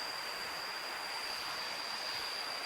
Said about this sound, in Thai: นี่น้ำตกเนาะ น้ำตกตาดน้ำใส